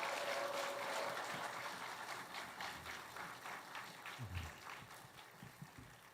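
Broad, noisy crowd applause at a church prayer meeting, steady clapping and some cheering, fairly loud at first and tapering slightly, with a few low thumps.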